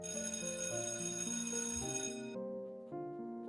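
A school bell chimes in a melodic electronic tone, a short sequence of bright sustained notes that cuts off abruptly before a softer tail, heard alone without talk.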